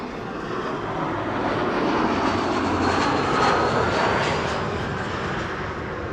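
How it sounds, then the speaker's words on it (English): A KLM airliner on Flight 1800 from Düsseldorf comes in to land at Amsterdam Schiphol, its engines giving a loud, steady roar that swells slightly toward the middle and then eases, with no voices over it. "This is KLM Flight 1800 arriving from Düsseldorf"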